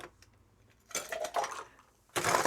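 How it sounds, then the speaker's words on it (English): Ice cubes dropped into a glass of Disaronno cocktail, two short clattering bursts of cubes knocking against glass, close and clear with a quiet pause between. "Just going to top that up with some ice."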